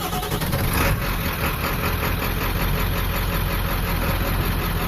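A 1995 Ford Powerstroke diesel truck engine, recently fitted with new glow plugs, idles with a loud, steady, dense clatter that holds unchanged throughout.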